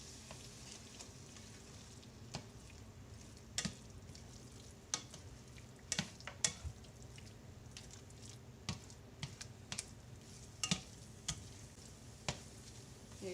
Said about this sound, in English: You just keep stirring until the shrimp will start turning red.